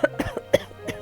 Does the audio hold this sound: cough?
yes